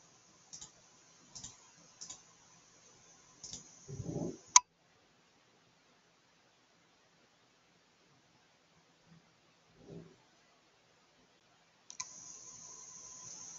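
Computer mouse clicks while building a website sound as a handful of sharp, close ticks, scattered singly and in short bursts, separated by long quiet gaps.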